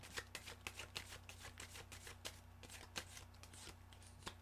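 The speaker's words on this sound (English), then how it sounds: "Okay, I need another shuffle." Tarot cards are shuffled by hand in a quiet room: a run of soft, papery riffles and flicks arriving in irregular bursts, fairly faint and close, with no voices.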